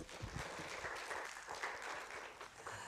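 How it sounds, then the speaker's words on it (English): Applause from the audience at an international tourism seminar, a steady, moderately distant patter of many hands clapping, continuing evenly throughout with no one speaking over it. "Please give applause."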